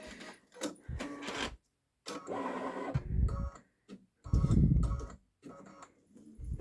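A Babylock Solaris embroidery machine stitches a design onto a sweatshirt, its close mechanical whirring and ticking arriving in rhythmic bursts separated by brief pauses.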